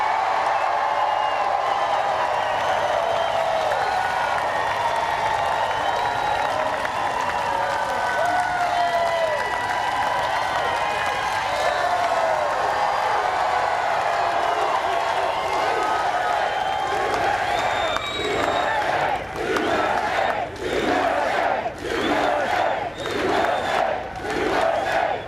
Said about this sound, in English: Especially when you have a crowd like this.